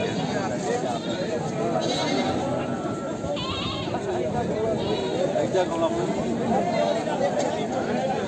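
Hyderabadi goats bleat repeatedly amid a noisy crowd at a goat market in Surewala, their wavering cries rising over steady chatter of people talking nearby.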